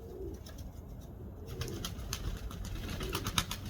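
Pigeons in a loft give faint, low cooing calls over a quiet background, with a few light rustles and wing movements nearby.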